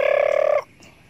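A turkey gobbles once, close and loud, a quick rattling burst lasting about half a second among farm fowl before fading into quiet.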